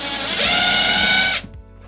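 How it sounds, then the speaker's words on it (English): A power drill whines at high speed, driving a screw into a laminate shower wall panel, loud and close, holding steady for just over a second before cutting off abruptly. "And we'll screw it in."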